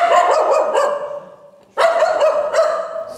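A dog barks rapidly in two close, loud bursts of repeated high-pitched yaps, separated by a brief pause.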